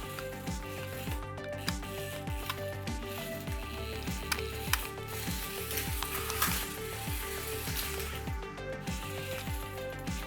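Small Hot Wheels RC toy car driving on carpet, a faint whirring electric motor whine with repeated rising and falling pitch sweeps and light scuffing, no talking.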